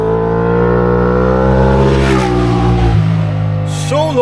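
Motorbikes passing close by on a street in Spain, a loud, steady engine drone whose pitch swells and shifts as they go by, with a brief dip near the end.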